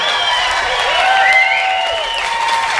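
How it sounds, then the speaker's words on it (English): Applause from a crowd at an outdoor march and rally in Virginia, a steady wash of clapping with sustained whistles rising and falling above it, fairly loud throughout. "Give yourselves a round of applause."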